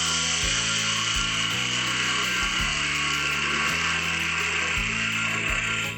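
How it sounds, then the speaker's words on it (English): A wood lathe spins a maple burl ornament while a small parting tool cuts an undercut, a loud steady motor drone with a grinding scrape whose pitch shifts as the cut changes. "we'll grab that small parting tool again and do another undercut"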